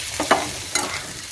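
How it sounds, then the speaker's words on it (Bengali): Mushrooms stirred and fried with onion in a pan for a mushroom masala, a steady sizzle broken by two sharp scraping stirs, close and moderately loud with no talk. "এই মাশরুমটা দিয়ে এটাকে আবার একটু নাড়াচাড়া করে একটু ভাজা ভাজা করে নেব"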